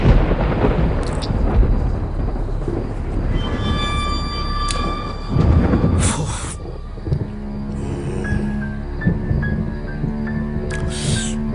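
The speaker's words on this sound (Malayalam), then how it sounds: "പറഞ്ഞ പോലെ ശരിയാ, നല്ല മഴക്കോളുണ്ട്." Thunder from a gathering rainstorm rolls in heavy low rumbles, with a second surge midway, mixed with tonal background sounds and what may be a distant animal call.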